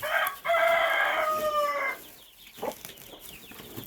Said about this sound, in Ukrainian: Ай, курка, курка.